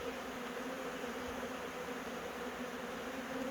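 A honey bee swarm buzzes around a bee house as it moves in, a steady, dense drone that holds without a break and stays fairly faint and even throughout.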